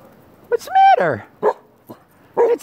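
Guard dog indoors barking and yipping in a few short bursts at a balcony chair, close and fairly loud, with a whimpering tone between barks.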